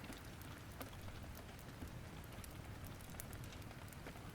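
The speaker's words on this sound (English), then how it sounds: "the rhythmic patter of the rain on the windows" Rain patters steadily against windows in a quiet interior, producing a soft, even hiss with scattered faint drop taps and no voices.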